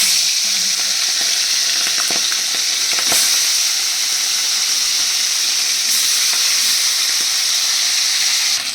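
Tangra fish fry in hot oil in a wok, a loud, continuous bright sizzle with occasional spits and crackles, steady throughout and without voices.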